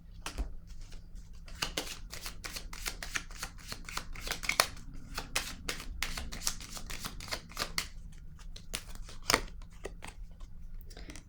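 Tarot-style cards are handled and laid down during a card reading, giving a dense series of close, crisp snaps and shuffling clicks that run unevenly throughout.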